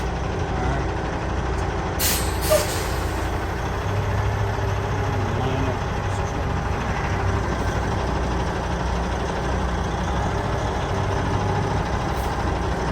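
A truck coming to a stop on a street, its engine rumbling steadily with a brief hiss of air brakes early on, then idling low and continuous.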